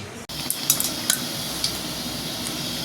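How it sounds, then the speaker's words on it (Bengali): A steady sizzle of malpua sweets frying in a pan fills the clip, broken by a few light clinks of a utensil against metal. "এই যে মালপোয়া ভাজা চলছে"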